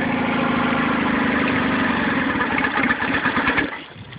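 A Nissan 9.8 outboard motor running out of the box at a low, rough idle, giving a steady close putter that dips and fades toward the end.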